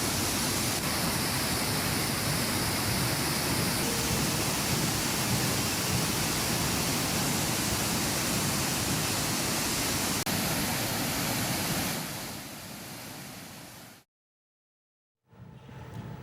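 Swollen Ciliwung River water rushes loudly and steadily over the Katulampa weir in Bogor, West Java, a dense broadband roar that fades near the end, drops out briefly, then returns.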